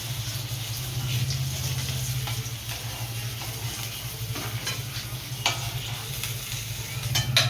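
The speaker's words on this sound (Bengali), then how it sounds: "সব মাছগুলো এরকম করে ভেজে নেবো।" Pieces of katla fish fry in a pan with a continuous crackling sizzle, punctuated by sharper pops and stirring scrapes, while a low steady hum runs underneath.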